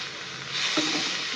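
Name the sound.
shrimp heads frying in a pan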